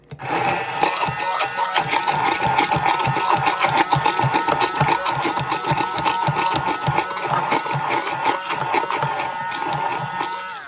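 A food processor runs loud and continuous, mixing mayonnaise made from freeze-dried eggs, with a rapid rattling chatter throughout and no talking.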